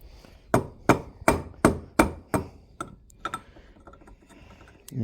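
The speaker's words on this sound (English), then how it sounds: "So, back with the chisel now." A chisel is struck by a hammer during a repair job, six evenly spaced loud knocks in a steady rhythm, then a few lighter, irregular taps trailing off.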